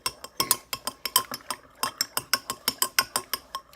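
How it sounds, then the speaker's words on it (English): Honey being stirred into a cup of tea, a spoon clinking quickly and rhythmically against the cup in a rapid series of bright, close taps. "I'm going to go ahead and add that in there and mix it up"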